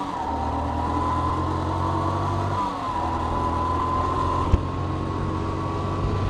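A Yamaha R15 motorcycle engine runs steadily for several seconds, holding a loud, continuous drone that shifts pitch slightly partway through as it pulls away on take-off, with a single sharp click near the end.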